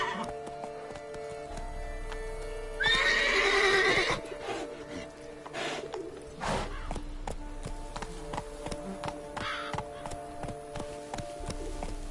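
A horse in The Witcher 3: Wild Hunt (PS5 next-gen edition) gives a loud, bright whinny near the start, then hooves clip-clop steadily over a game soundscape with ambient tones.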